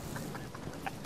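Chicken clucking in the video game Insurgency: a quick, rhythmic series of short, fairly close clucks over steady low game background noise.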